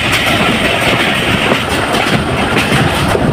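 A crowded local train with its locomotive runs along the rails between Poradaha and Dhaka, a steady loud rumble with rhythmic wheel clatter filling the whole stretch, no voices.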